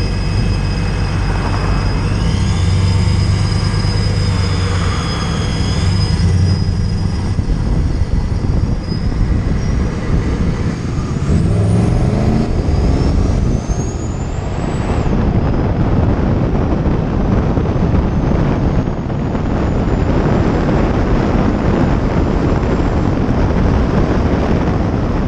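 A supercharged RAM 1500 4x4 truck accelerates at wide open throttle and runs through the gears, with a loud, continuous engine roar, supercharger whine and heavy wind noise heard from inside the cab.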